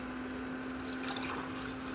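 Hot water is poured at home on a village morning, a soft, steady liquid stream with faint splashing, quiet and heard alone.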